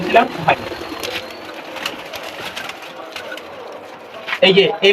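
Pigeons coo softly at a pigeon keeper's loft while people talk nearby; the low murmuring calls sit under the conversation, with a few brief rustling and clattering sounds near the end.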